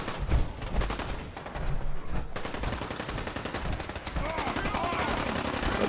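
Bursts of automatic and single gunfire from enemies fighting in Fallout 4 crackle through a busy game mix, rapid and continuous at mid distance, with a voice briefly talking over it.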